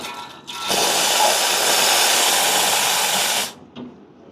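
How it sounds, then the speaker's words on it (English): An espresso machine steam wand, on a Bianca with an E61 group, purging steam in one loud continuous hiss of about three seconds that starts abruptly and cuts off sharply, with a short faint hiss after. "So now let's purge the steam."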